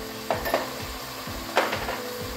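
Crab pieces sizzle in hot oil in a pan while being stirred, with a few soft scraping knocks of the utensil over a steady frying hiss.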